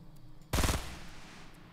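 Burst of rapid gunfire from the Fortnite video game, a short loud volley of several quick shots that decays into a faint tail, alone without talk.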